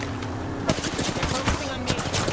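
Rapid automatic gunfire in the Apex Legends video game crackles in bursts at moderate volume, mixed with other game sounds.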